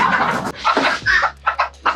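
A Giriraja fancy-variety chicken clucks and squawks close by in short, uneven bursts, with a low steady hum underneath.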